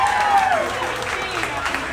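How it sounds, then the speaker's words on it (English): Audience applause for a contestant at a pregnant bikini contest, a steady broadband wash of clapping with a voice carrying over the start before the clapping continues on its own. "That deserves a round of applause"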